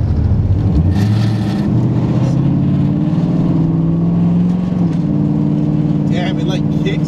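A car fitted with a B&M Pro Stick automatic shifter runs close by, its steady engine drone holding, then shifting in pitch as it drops into gear.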